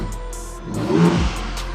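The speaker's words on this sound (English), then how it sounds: "I'll do some revs. Very quiet. Of course, it has a bit of sound, just what you expect from a 6-cylinder engine." A Ford Ranger Raptor with a 6-cylinder engine and a Milltek Sport exhaust, set to a quiet mode, gives a single short rev that swells and falls back to a low idle.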